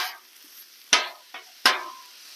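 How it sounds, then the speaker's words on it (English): A few sharp metal scrapes and taps ring out over a faint sizzle as ground beef is chopped on a Blackstone griddle, spaced irregularly and close to the microphone. "we're just chopping the meat. Just going to let this cook up"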